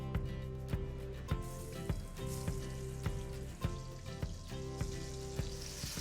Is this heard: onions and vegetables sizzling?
yes